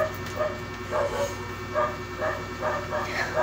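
A dog barks repeatedly in short, fairly regular yaps, moderately close, over a constant background hum.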